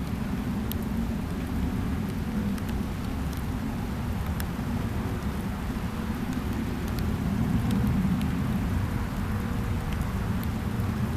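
Steady rain falls outdoors, a constant close hiss of drops on nearby surfaces that runs unbroken throughout, with occasional faint sharper patters and no talking.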